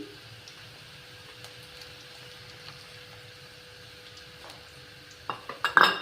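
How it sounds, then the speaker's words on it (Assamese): Cashew paste is stirred in a pan while making doi katla, producing quiet scraping and soft sizzling, followed near the end by a few louder clinks of a spoon against the pan. "কাজুখিনি দি ল'লোঁ অকণমান গোটা হোৱালৈকে এনেকৈ লৰাই থাকিব লাগিব"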